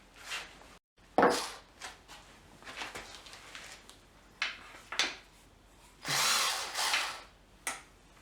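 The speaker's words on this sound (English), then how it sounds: "So I'll remove those 2 bolts" Two 12mm bolts come out of a Nissan VK45DE 4.5-litre V8 on an engine reassembly, with short bursts of a power tool and scattered clunks and scrapes of metal in between.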